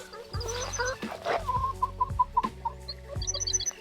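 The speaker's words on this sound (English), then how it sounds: "It's also time to feed chicken." Chickens in a garden coop cluck in quick repeated bursts close by, with a few higher calls mixed in over steady low thuds.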